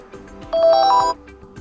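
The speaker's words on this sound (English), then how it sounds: "alarm sound" A Nokia G20 phone alarm tone previews in a short burst of bright electronic chime notes, about half a second long, clear and close over a quiet background.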